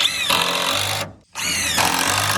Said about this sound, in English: we're just putting our screws in at a steep angle because they're too long.